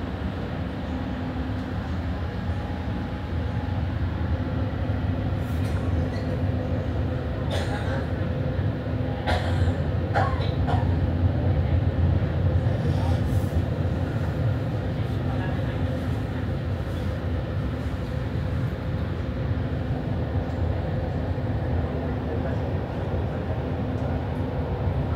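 Interior of an outbound REM light metro train running, a steady low rumble and hum with occasional clicks and rattles, while a recorded announcement plays over it.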